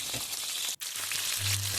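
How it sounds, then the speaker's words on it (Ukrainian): Steady, close sizzling crackle of chicken wings frying in a pan over medium heat, with a brief dropout midway and a low hum underneath. "Тепер можна обжарювати на сковорідці на середньому вогні."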